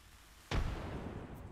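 A frag grenade explodes in Apex Legends as one sudden, loud broadband blast, followed by a dense, rumbling decay that lingers to the end.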